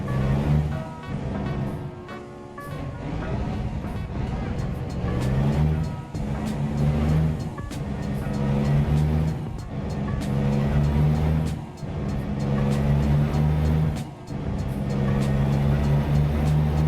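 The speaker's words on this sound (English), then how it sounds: "we're driving with an American truck" An American truck's engine drones steadily in a truck simulator video game, a continuous loud low rumble with periodic shifts in pitch as it drives.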